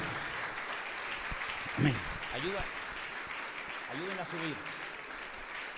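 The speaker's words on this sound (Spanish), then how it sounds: "vamos a dar un aplauso de bienvenida a esta hermana que viene de Uruguay" Church congregation applauding to welcome a visiting woman from Uruguay, a steady broadband clapping wash running the whole time beneath a voice speaking in Spanish.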